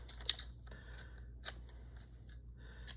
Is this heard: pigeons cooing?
no